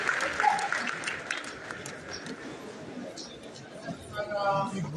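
Audience applause for a minister at a World AIDS Day commemoration at Kibabii University, moderate clapping mixed with crowd chatter and murmuring voices, swelling again near the end.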